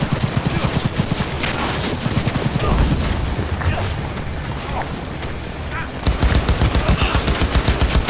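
Heavy automatic gunfire from a firefight in the video game Cyberpunk 2077, dense rapid bursts throughout at close range, loud and sustained with a brief lull before the shooting intensifies again.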